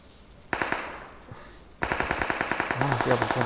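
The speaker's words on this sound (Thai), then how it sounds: "โอ้ยแมนเบิ้งพี่ยิงมึงยิงหยังหวะ" Rapid bursts of gunfire from a shooting game, loud close rattling volleys with a short burst first, then a pause and a longer sustained rapid string of shots, while a voice speaks faintly underneath.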